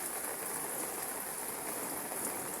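Steady, dense rain falling, a constant hiss of drops on surfaces that holds without pause throughout.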